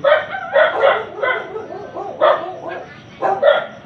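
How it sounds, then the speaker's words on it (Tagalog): A neighbour's dog barks and yips in short bursts, several sharp calls spread unevenly over a few seconds, fairly close and loud. "maingay ang aso ng kapitbahay"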